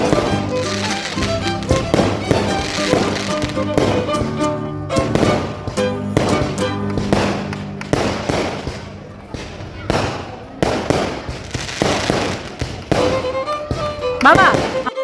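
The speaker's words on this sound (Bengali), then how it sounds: "দার্জিলিংয়ে এসে ম্যাল রোডে এত সুন্দর বাজি ফাটানো দেখে খুবই ভালো লাগলো" Fireworks burst over Mall Road in Darjeeling on an evening outing, a long run of loud, sharp cracks and booms following one another in irregular quick succession, with crowd voices and talk underneath.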